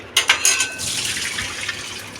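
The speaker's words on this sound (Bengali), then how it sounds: "এবার আলুটা ঢেলে নেবো ঝুড়িতে।" Boiled potatoes and their cooking water are tipped into a colander: a few quick knocking thuds, then a loud rushing pour of water that tapers into draining trickle.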